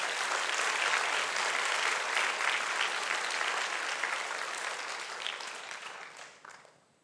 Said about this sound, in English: give yourselves a meaningful pat on the heart and a well-deserved round of applause